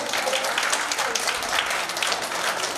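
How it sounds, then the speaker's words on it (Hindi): A crowd applauds steadily at a poetry gathering, a dense wash of clapping hands that holds at an even level throughout. "दोबारा अभी तालियां बजाएं इनके लिए"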